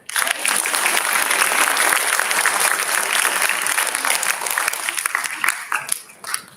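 An audience at a youth ideathon final claps steadily for several seconds, a dense patter of many hands that swells early and thins toward the end.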